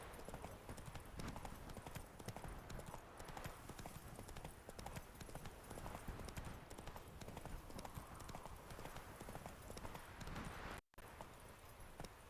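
Roach, the horse in the Witcher 3 video game, trots with dense, steady hoof clip-clops that continue throughout, loud and close, broken only by a brief dropout near the end.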